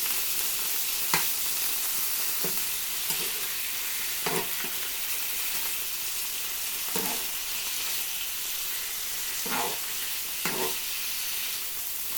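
Beef browning in a hot pan for Japanese-style hashed beef: a steady dense sizzle and fry with sharp spitting pops and occasional utensil scrapes as the meat is stirred, close and continuous with no talk.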